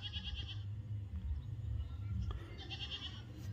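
Kathiawadi goats in a truck bleat in short, wavering bursts, one cluster at the start and another near the end, over a low rumbling background.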